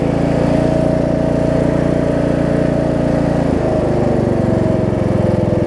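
A Southern States Craftsman riding lawn mower engine runs loud and close, a steady continuous drone that briefly dips and wavers partway through before settling again.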